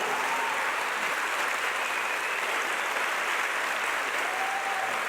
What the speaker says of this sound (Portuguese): É uma salva de palmas para vocês mesmos, pelo que vocês têm conquistado